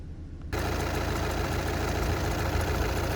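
A 2014 VW Passat TDI diesel engine idles steadily and close by with a dense, even rumble, after a brief quieter moment at the start.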